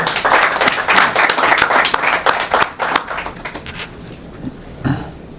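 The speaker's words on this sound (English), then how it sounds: "Please, let's give him a round of applause." Applause at a football press conference for a Nigeria player before a World Cup match: sharp individual claps from a small room of people, loud at first, thinning out into scattered claps and fading.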